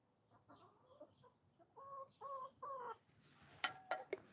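Chickens, big and small, give a run of soft, repeated clucks that grow into louder rhythmic calls, followed by a few sharp, abrupt squawks, close by in a quiet setting.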